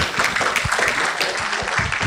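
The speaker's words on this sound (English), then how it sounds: "Can I have a louder clap for the NOGs" An audience at a conference opening session claps for the NOGs, producing dense, steady applause that holds fairly loud across the whole moment without a break.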